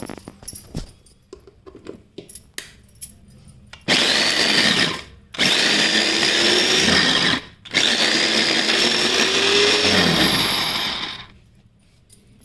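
An electric kitchen grinder-mixer runs on sliced eggplant in three loud, steady bursts with short pauses between, its whirring motor winding down at the end after quieter handling noises.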